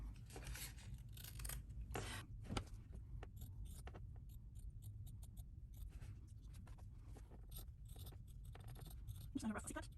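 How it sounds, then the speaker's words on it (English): Scissors roughly cutting around a stamped line on fabric, a steady run of crisp snips and rasping slides close by, with a low hum beneath. "Just going to roughly cut around the line."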